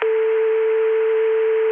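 A steady, continuous 288 PBX telephone dial tone, loud and close, holding one unchanging pitch with no interruptions until it stops abruptly at the end.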